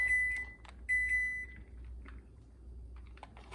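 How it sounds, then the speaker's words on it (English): A kitchen oven signals it has finished preheating with a short series of high electronic beeps, two longer tones then fainter pips, heard close and clear in a quiet room. "And oven's ready. It's a dingin' too."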